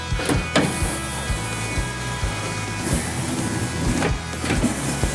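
Door glass on a 1961-1966 Ford F-Series pickup being wound up and down against new beltline weatherstrip, giving a repeated soft mechanical whirring and scraping with occasional knocks, close and steady, no talk.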